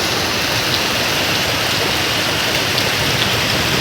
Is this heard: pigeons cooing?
no